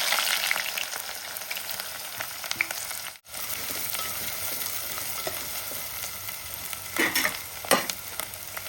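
Onions frying in hot oil for mushroom curry, a continuous close sizzle with occasional stirring scrapes and a brief drop-out partway through, no voices.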